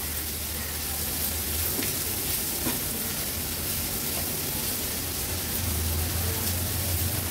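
Red peppers and green capsicum sautéed on high flame in a pan for cafe-style egg bhurji, a steady, dense sizzle with occasional stirring scrapes and no one talking.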